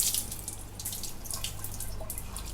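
Water runs steadily from a household tap, a soft continuous splashing hiss with light drips, heard alone at close range.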